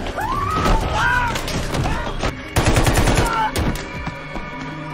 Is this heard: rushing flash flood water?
no